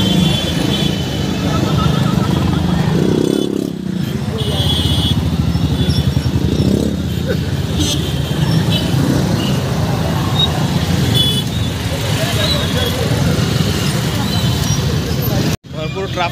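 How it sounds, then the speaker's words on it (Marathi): Vehicles stuck in a traffic jam in Mumbai during a Dahi Handi festival keep up a loud, continuous roadway rumble with motorcycle engines and distant crowd babble, and voices talk over it. "भरपूर ट्रॅफिक आहे मित्रांनो."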